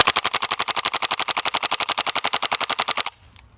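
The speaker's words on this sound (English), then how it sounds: "We're gonna throw it into the PPK20, toss it into full auto, and do the same test where we see how many mags we can empty on auto." WELLPRO PPK20 (WE06) gas blowback airsoft rifle firing full auto: a rapid, even string of about thirty sharp, crisp cracks over three seconds at a steady rate, then it stops abruptly and leaves a faint hiss, close and loud.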